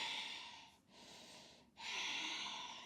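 A steady breath exhaled during a yoga flow, close and soft, in two long airy passes with a brief pause between them.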